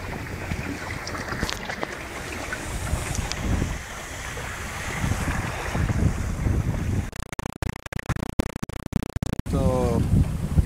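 Boat on open water heading toward Venice, with St Mark's in view: steady engine and hull rumble under strong wind buffeting, with gusty bursts of microphone noise toward the end.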